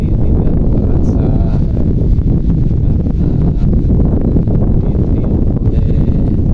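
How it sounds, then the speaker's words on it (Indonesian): Strong wind at the summit of Candi Penataran temple in Blitar, East Java, roaring continuously against the microphone as loud, steady buffeting noise throughout. "karena tiupan angin yang luar biasa, semilir angin"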